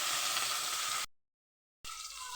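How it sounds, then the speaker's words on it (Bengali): Prawns fry gently in mustard oil for a prawn curry, making a steady close hiss and sizzle that cuts out abruptly for a moment and then returns just as strong. "সরষের তেল দিয়ে রান্না করব। চিংড়ি মাছগুলো আলতো করে ভেজে নেব।"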